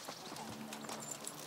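Horse hooves clip-clop in the medieval video game Kingdom Come, a quick run of soft, close steps under someone talking.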